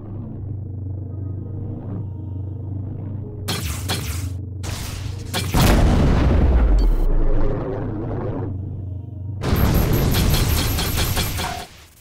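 Incoming missiles strike a spaceship in the space game Rebel Galaxy Outlaw, a low rumbling engine drone broken by sharp crackling bursts and a heavy booming explosion, then another loud crackling impact near the end.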